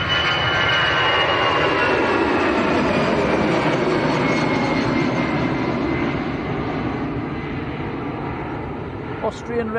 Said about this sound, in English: Austrian registered A319. Steady climb out.